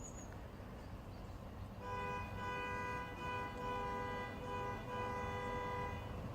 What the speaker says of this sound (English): Tones from a car being impatient